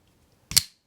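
One firm, sharp snap from a Shirogorov Custom Division Neon NL pocketknife blade flicking open, close-miked and brief with a light metallic ring, in otherwise near silence.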